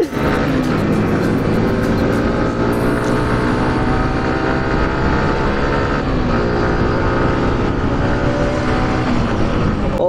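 A loud, continuous engine roar from sport motorcycles on a Sunday group ride, including a Yamaha R1 V3 with an aftermarket exhaust and a Kawasaki Ninja. The rev pitch shifts as the bikes pass close by.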